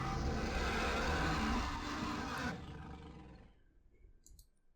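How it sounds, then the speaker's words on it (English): From the Kaidan Restaurant horror game on the Nintendo DS comes a harsh, lion-like roar that holds loud for a couple of seconds. It then tapers off into a fading tail, with faint clicks near the end. "He could hear a lion or some such beast roaring nearby."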